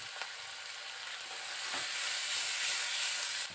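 Chopped onions with a bay leaf frying in hot oil while being stirred, a dense continuous sizzle that swells slightly louder midway, close and steady with no voices.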